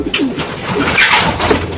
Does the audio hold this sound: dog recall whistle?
no